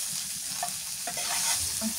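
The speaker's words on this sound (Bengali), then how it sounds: "মাথাটাও ভাজা নিচ্ছি সুন্দর করে।" A snakehead fish head frying in oil in a pan, a dense steady sizzle up close with faint scraping stirs.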